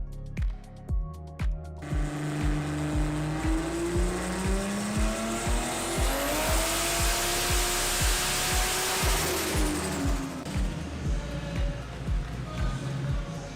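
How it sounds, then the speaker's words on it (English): A boosted six-cylinder Ford FG Falcon making over 1,600 horsepower runs hard on a dyno at a car show, its engine roaring loud and rising in pitch through a long pull, with a rapid throbbing pulse and a turbo whine. "The next class winner to hit the dyno was Bilal's FG Falcon"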